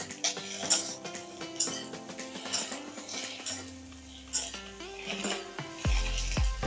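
Okra and green chilli being stirred in a frying pan, the spoon scraping and clinking against the pan in a steady rhythm over a light sizzle, close and fairly loud, with a heavier knock near the end.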